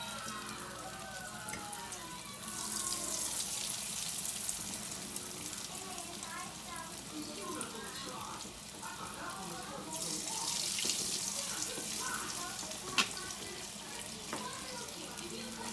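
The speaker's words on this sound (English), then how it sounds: "Start frying some of these up." Small homemade chicken fingers fry in hot oil on a medium-low stove, a steady soft sizzle and crackle with louder surges, close and continuous.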